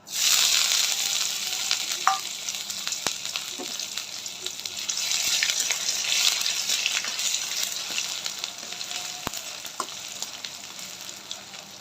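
Sliced ginger goes into hot oil already frying bay leaf, dried red chili and cardamom, with a loud continuous sizzle close by, occasional clinks and sputters, and no talking.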